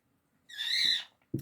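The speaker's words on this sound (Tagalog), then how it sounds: "ang ingay ng ibon" A single shrill, screechy bird call lasting under a second, fairly close, followed by a brief thump.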